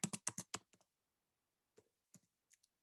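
Keys clatter on a computer keyboard as a command is typed into a terminal: a quick burst of about eight close, crisp clicks, a pause, then a few more scattered taps in a quiet room.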